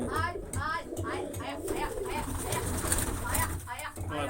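Pigeons coo in a loft housing about fifteen birds, steady overlapping coos running throughout close by, with children's voices and talk mixed in over the flock.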